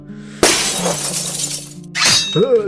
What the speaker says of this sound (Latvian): Es pateicu, stiklu salauzīšu.